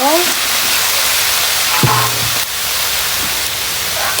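Garlic, onion and ginger sauté in a hot pan for a Filipino ginataang langka dish, giving a steady loud sizzle across the whole moment with a brief clink of a utensil midway.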